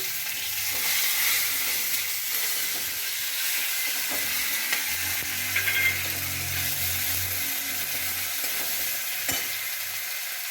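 Chopped tomato and crushed ginger sizzle and fry in hot oil, a steady close hiss with soft stirring clatter and a low bubbling swell midway, no voices.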